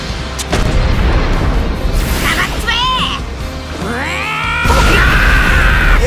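A Spirit Bomb erupts in the fighting game Jump Force with a sustained, roaring explosion and crashing impact effects. Whooshing energy sounds rise over it, and excited voices shout through the blast.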